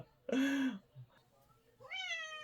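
A heavily pregnant cat, close by, gives two loud meows, one short and one rising and drawn out, with a small sound between them.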